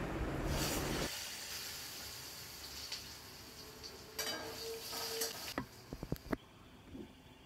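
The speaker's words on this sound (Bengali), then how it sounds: "লম্বা লম্বা করে 4 টুকরো আলু একটু ভেজে নিলাম" Four long potato pieces frying in oil for a Bengali fish curry meal, a steady broadband sizzle that loudens briefly at first, then softens, with a few sharp clicks and taps of a utensil near the end.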